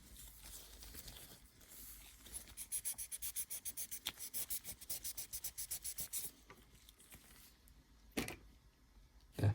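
Sandpaper rubs over an aluminium piece to cut through its anodized layer: a quick run of about twenty even, rhythmic scratching strokes, close and fairly quiet, ending in a few slower, isolated scrapes.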